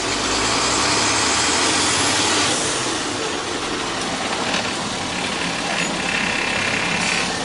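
A vehicle engine with a worn engine runs in reverse gear, a loud, steady, close rumble that holds its level throughout, without any talk.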